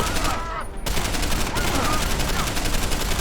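Gunfire in Deus Ex: Human Revolution, played on Linux through Steam: dense, loud bursts of shots and impacts that fill the whole stretch, with only a short near-silent gap early on.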